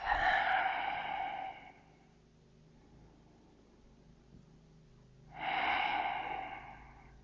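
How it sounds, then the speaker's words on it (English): Two slow, deep breaths during a yoga sequence for anxiety and stress, each a long airy exhale separated by several seconds of near silence, close and moderately loud with no talking. "Find your breath."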